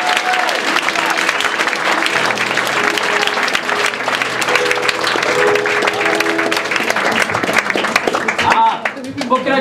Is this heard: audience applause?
yes